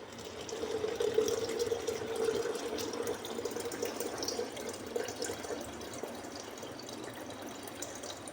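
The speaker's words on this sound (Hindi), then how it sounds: "पानी भी इसमें ऐड कर दें।" Water runs steadily from a jug into a cooking pot on an electric heater, a continuous close splashing pour that softens slightly toward the end, with no talking.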